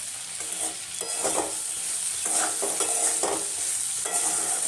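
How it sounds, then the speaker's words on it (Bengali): Food fries in oil with salt in a pan, a soft constant sizzle broken by repeated scraping strokes of a spatula stirring, close and alone without talk. "আমি এটাকে নুনটা দিয়ে একটু ভালো করে আর একটু ভাজা ভাজা করব।"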